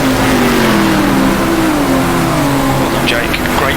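A race car engine in the racing game GTR2 drones steadily and strains high along a straight, holding near and loud for the whole stretch while someone talks over it.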